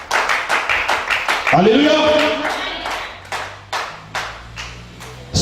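A congregation at a church worship service in Gabon claps in a brisk, steady rhythm, loud and close, while a voice calls out over the clapping partway through.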